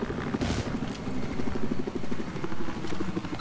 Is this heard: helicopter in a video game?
yes